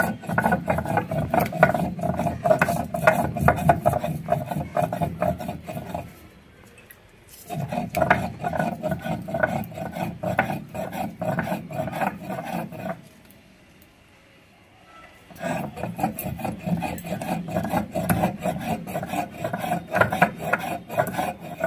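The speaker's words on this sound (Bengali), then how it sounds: "ফুলকপি আলু রুই মাছের ঝোলের জন্য এলাচটা বেটে নেব" Cardamom pods are ground by hand for a rui fish curry with cauliflower and potato, a loud rhythmic rasping scrape in two long bursts separated by quiet pauses.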